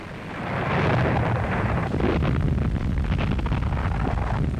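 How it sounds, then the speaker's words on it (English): Heavy German artillery bombardment in a WW2 documentary, a dense continuous roar of blasts and rumbling that is loud and sustained throughout, with no speech over it. "the Germans bombarded them mercilessly with heavy artillery"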